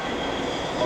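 A Gyeongin Line train at Oryu station gives off a steady rumbling roar of wheels and carriage, loud and close, with no voices.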